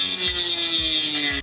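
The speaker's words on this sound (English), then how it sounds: "I had to take a Dremel and start cutting away at the inside of the speaker casing" A Dremel rotary tool grinds away at the inside of a plastic speaker casing, giving a high whine with short dips in pitch as the bit bites the plastic, loud and close, with no talk.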